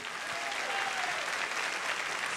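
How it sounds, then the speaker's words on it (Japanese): A crowd at a Guilty Gear XX fighting game tournament applauds steadily, a dense wash of clapping that fills the room without pause and with no talk over it. "拍手お願いします。"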